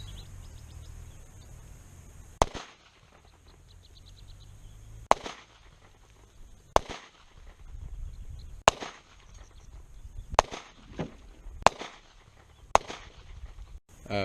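Hi-Point C-9 9mm pistol fired outdoors, about eight sharp loud cracks spaced a second or two apart, with faint birdsong and background noise between shots.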